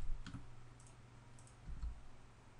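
A computer mouse clicking faintly while modeling in Blender: two soft, isolated clicks about a second and a half apart over a quiet room hum.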